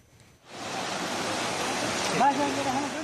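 A swollen river in Nepal, its treacherous currents raised after a landslide, surges in a loud, continuous rushing roar that swells in after a quiet start, with a voice faintly audible beneath it.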